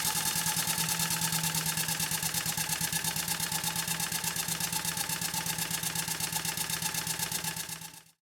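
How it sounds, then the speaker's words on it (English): An Allchin Royal Chester traction engine runs steadily under renovation, close and loud, giving a fast, even mechanical beat with a constant hum for about eight seconds before cutting off abruptly. "I'm holding some Scotch-Brite against it whilst the engine is running"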